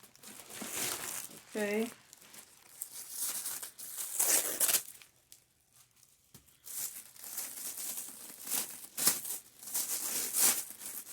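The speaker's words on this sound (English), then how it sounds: "let me go ahead now, take off all the wrapping paper" Wrapping paper crinkles and tears off a Michael Kors Penelope bag in close, busy bursts of crumpling and ripping, with a short spoken word partway through and quieter pauses between handfuls.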